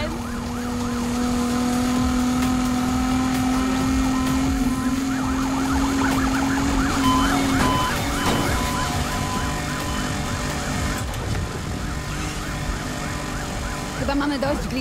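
Police car sirens blare in a car chase video game, a loud steady wail that shifts into an overlapping, warbling chorus of several sirens over a continuous engine and traffic roar.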